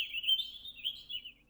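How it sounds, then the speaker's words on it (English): Small birds chirping in a video game, Pony Amnesia: a continuous high twittering warble, soft and steady, with no other sounds. "you wake to the sound of birds chirping"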